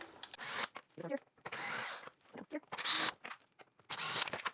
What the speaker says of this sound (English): I'm gonna go ahead and do this with the drill so I can make quick work of getting these out